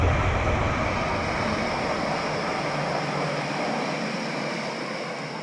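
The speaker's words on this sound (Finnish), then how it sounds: "Juna meni." A train passes by on a wet, dark autumn day, a broad steady rumble with rail noise that holds loud and then slowly fades slightly toward the end.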